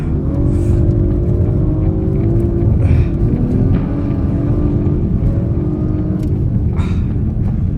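An Audi RS5 driving on pure ice, its engine droning and revving with rising and falling pitch, loud and continuous throughout.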